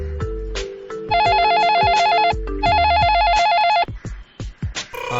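A mobile phone rings with a loud electronic tone in two long bursts, ending abruptly, with some background voices and knocks after.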